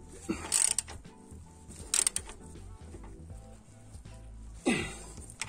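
Nuts are tightened on the ball joints and tie rods of a Renault Laguna 2, with faint, sparse ratcheting creaks and three short, sharper bursts of metallic clicking against a quiet garage background.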